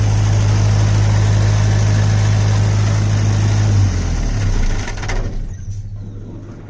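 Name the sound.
diesel generator engine shutting down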